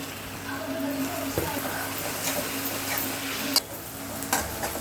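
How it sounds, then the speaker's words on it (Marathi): Chopped tomato stirred into browned onion frying in a pan for pav bhaji, a steady close sizzle with scraping spoon strokes and a few sharper clicks of the utensil. "आता कांदा लालसर झालेला आहे, मी त्याच्यामध्ये टाकते बारीक चिरलेला टोमॅटो।"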